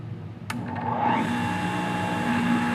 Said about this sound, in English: So I'm going to show you how I use my juice extractor.